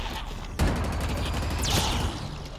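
Heavy plasma cannon in Halo Infinite unleashing a sustained, loud stream of rapid shots, with a sharp blast kicking off the barrage and a rising whine cutting through midway.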